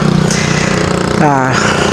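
Big motorcycles idle and rev loudly up close while refuelling at a Shell gas station, with a rising engine note near the end and a voice talking over the steady rumble.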